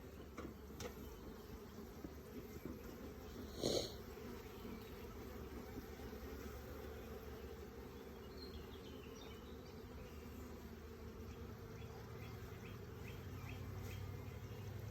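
Honeybees humming softly while being moved from a nuc into a larger hive, a continuous faint buzz with a brief louder burst partway through.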